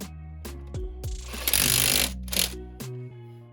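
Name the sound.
Makita power tool gun working on a car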